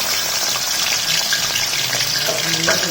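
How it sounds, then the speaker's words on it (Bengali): A loud, steady hiss of beef sizzling as it is added to hot oil in a wok-style kadai, a dense crackling wash that continues throughout. "এখন তেলে মাংস দিয়ে দিচ্ছি"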